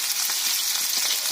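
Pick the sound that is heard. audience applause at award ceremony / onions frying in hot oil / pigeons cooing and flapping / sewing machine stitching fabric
onions frying in hot oil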